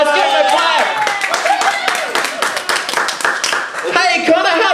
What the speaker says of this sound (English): Guys, give him a clap.